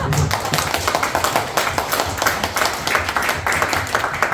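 A room full of people at a lecture claps steadily, a dense patter of hands at a constant level from start to finish.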